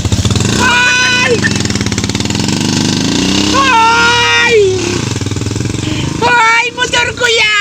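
A motorcycle engine revs in loud, rough bursts, idling between them, with people shouting and talking over it.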